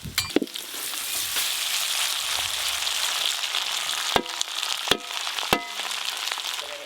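Cooked rice tipped into a pan of ghee with cashews and raisins, frying with a steady sizzle, broken by a few sharp scrapes and knocks of a spatula against the pan.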